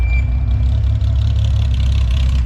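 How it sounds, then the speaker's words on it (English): A V8 engine idles steadily and loudly at a classic car show in Stuttgart, a continuous deep low rumble with crowd bustle faintly behind it. "That's got V8 sound written all over it"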